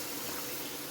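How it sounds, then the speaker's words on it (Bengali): A bowl of water pours into a koi fish oil-jhal curry, a brief, steady rushing splash heard close and alone. "এবার আমি এক বাটি জল দিয়ে দিচ্ছি"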